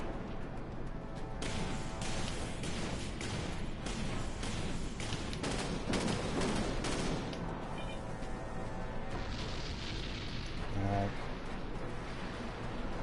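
Spaceship primary weapons fire in the video game Dreadnought, a steady run of heavy rhythmic shots and thumps over a constant loud battle rumble, with a few brief electronic tones near the end.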